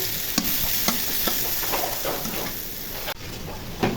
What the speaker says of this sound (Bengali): তেল গরম হয়ে গেছে, এখন পেঁয়াজগুলো ভেজে নিব।